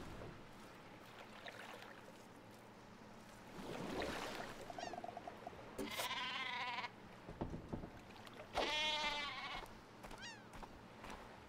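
Sheep weapon in the video game Worms Revolution bleats in two or three short wavering calls over a steady game soundscape, fairly close and moderately loud.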